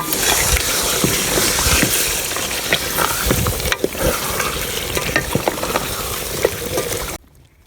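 Chicken meat added to a frying spice paste for khichuri, giving a loud, dense sizzle with constant stirring and scraping that cuts off abruptly at the end.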